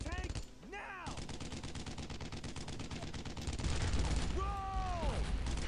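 Rapid bursts of gunfire and heavy automatic weapons fire erupt in a World War II firefight from Brothers in Arms: Road to Hill 30, with an armored tank engagement, loud and sustained throughout with a sweeping tonal sound near the start and again toward the end.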